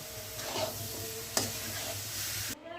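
Gram flour is stirred into hot sugar syrup in a pan for laddu, giving a faint steady sizzle with soft scraping strokes and one sharp clink near the middle.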